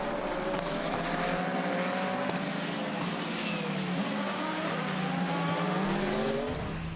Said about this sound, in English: It took Andre Lotterer over 8 minutes of wheel-to-wheel racing to finally secure the spot.